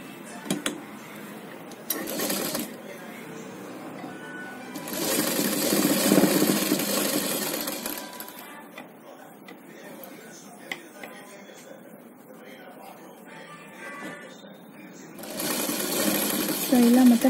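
A sewing machine stitches a seam on a child's umbrella frock in several bursts of whirring, two longer runs and a final one, with someone talking between them.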